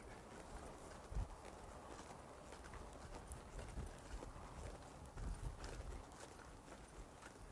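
Horse hooves move across the ground in an arena while the horse is worked with a mechanical cow, steady and somewhat distant, with a couple of heavier thuds.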